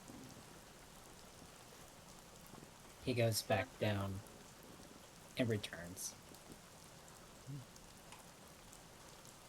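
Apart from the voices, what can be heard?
rain sound effect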